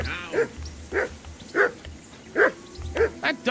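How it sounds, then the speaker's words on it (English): A dog barks in the video game Kingdom Come II, about six sharp, evenly spaced barks, close and fairly loud, over a low rumbling background. "That dog of yours is barking like the devil."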